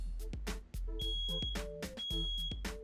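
A smoke detector sounds during a home automation test, giving repeated sharp electronic beeps in a quick irregular pattern, fairly quiet and alone.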